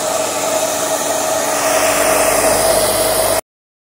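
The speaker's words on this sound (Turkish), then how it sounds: "Şimdi saç kurutma makinesiyle bir miktar şapkamı kurutacağım." A hair dryer blows steadily while drying white glue brushed onto a straw hat, a loud, constant whooshing whir that holds for about three and a half seconds before cutting off abruptly.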